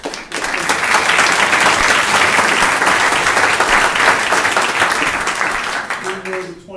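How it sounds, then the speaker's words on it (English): Loud, sustained applause fills the hall at the AMCA 2015 National Championship, a dense wash of many clapping hands that holds steady for about six seconds before tapering off abruptly. "Round of applause was congratulations, but also in honor of the outstanding tournament from Regent University."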